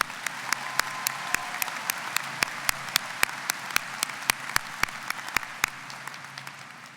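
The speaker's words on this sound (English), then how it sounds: "Please give another round of applause for our wonderful trio." Audience at a university commencement ceremony applauds, with a steady crowd clapping bed punctuated by regular sharp individual claps close by, fading slightly toward the end.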